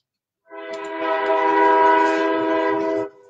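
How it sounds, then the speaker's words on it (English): A train rolls past in the background, with a sustained, loud horn blast of stacked tones that swells in, holds steady for nearly three seconds and then cuts off, heard alone. "Sorry about the train in the background."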